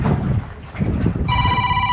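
A phone starts ringing with a clear, steady electronic ringtone partway through, over strong wind and boat noise while fishing on the water.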